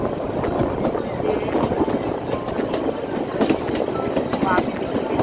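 The Kalka to Shimla toy train rolls along the mountain line, its wheels and carriages giving a continuous rumbling clatter with rail squeals, heard from on board alongside a voice.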